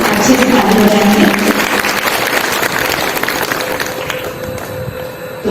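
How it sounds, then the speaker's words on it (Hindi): Assembly crowd at a tree-planting campaign gathering clapping together in a loud, dense burst of applause that gradually thins out. "एक बार अपने आप को स्वागत में अच्छे से ताली बजाएंगे"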